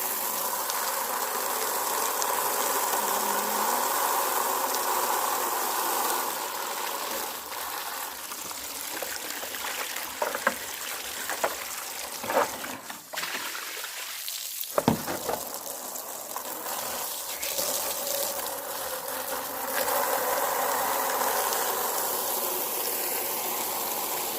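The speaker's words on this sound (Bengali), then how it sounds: "একটা জল ভরে নিচ্ছি।" Water runs steadily into a container in a home kitchen while an egg and bread pitha is being made: a continuous rushing stream with a few small knocks and clinks partway through, close by and without speech.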